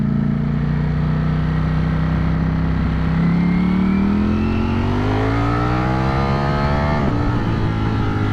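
A Ducati Streetfighter V4S motorcycle engine accelerates hard, its loud, close roar rising steadily in pitch through a long pull, with a brief drop at a gear shift before climbing again.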